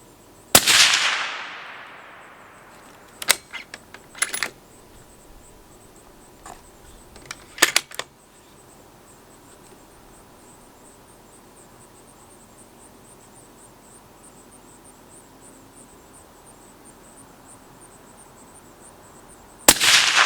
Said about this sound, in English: Cool shooting a center fire rifle through the suppressor.